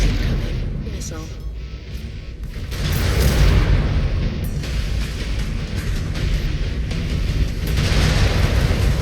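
Missile explosions and booming impacts rumble through a loud, dense battle in MechWarrior 5: Clans, layered over a constant mech combat din with several heavier swells.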